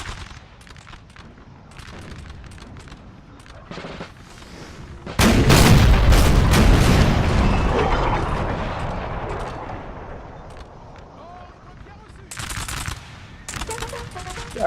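Artillery and musket fire in Napoleon: Total War, a massive booming barrage mid-clip that rumbles and fades, surrounded by scattered crackling volleys and distant pops of gunfire.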